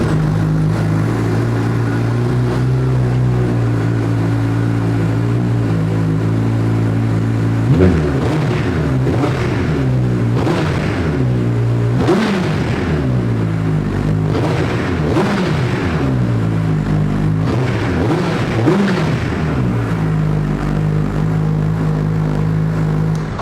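A Suzuki Hayabusa with original Yoshimura slip-on exhausts idles loudly and closely, then rises through a series of sharp throttle blips before settling back into a deep, even idle.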